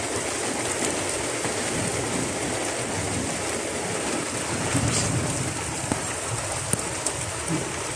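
Steady rain pours down outdoors, a dense, even hiss close by with a few sharper drips and taps standing out, no voices over it.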